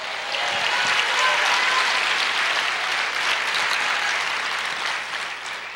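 A church congregation claps at a worship service, dense sustained applause that swells loud, holds steady for several seconds, then tapers slightly toward the end.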